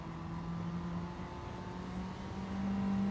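A Honda Civic race car's engine drones steadily in Gran Turismo 7 at Tsukuba, holding a constant tone and then shifting higher as it accelerates through the gears, loud and continuous.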